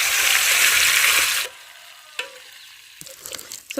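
Rabbit meat frying and browning in a saucepan gives a loud, close sizzle that cuts off suddenly, followed by sparse stirring clicks and scrapes.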